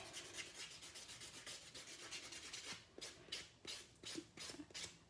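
Dip powder nails being buffed and smoothed with a file, quick rhythmic rubbing strokes close up, steady at first and then in slower separate passes.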